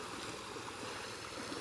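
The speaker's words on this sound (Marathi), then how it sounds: "तर आपण ओढ्यावर पोचलो आहे." A shallow, low-water stream flows steadily with a soft, even rushing wash, faint and continuous, with no voices.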